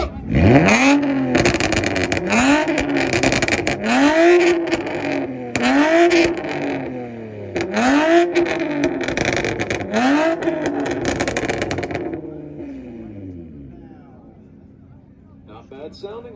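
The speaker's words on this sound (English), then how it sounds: "Not bad sounding for a Camry." A rental Toyota Camry revs at a 2022 IFO Oklahoma rev battle, with about six sharp rising-and-falling engine revs in a steady rhythm over crowd noise, then dropping to a quieter idle before fading out.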